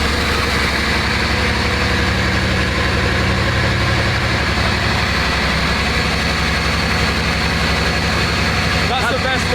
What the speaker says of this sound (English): Yeah, that was the best cold start.